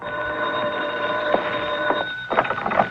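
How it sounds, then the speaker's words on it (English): A telephone rings as a radio drama sound effect, a steady bright electric bell trilling continuously for about three seconds, close and loud, with faint clicks partway through. "I got a phone call."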